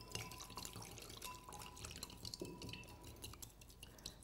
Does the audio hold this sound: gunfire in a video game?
no